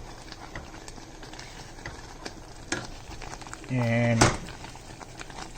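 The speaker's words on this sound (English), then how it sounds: "I added about a cup of water to this dal. And this guy is beginning to boil." Dal with about a cup of water simmers in a pot, making a low, continuous bubbling hiss with occasional pops, and a single spoken word cuts in near the end.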